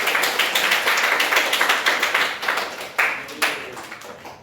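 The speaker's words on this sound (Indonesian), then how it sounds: "Coba diberikan aplaus untuk teman kita." A classroom of students claps for a classmate, a burst of quick, uneven hand claps that thins out after a few seconds, with no talking over it.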